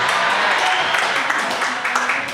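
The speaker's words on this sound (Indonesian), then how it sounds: "Tepuk tangan sekali lagi buat Mas Andri dari Bajo." A brief burst of audience clapping on a football fan talk show, honouring a guest named Andri; the clapping is thick and close, filling the short moment evenly.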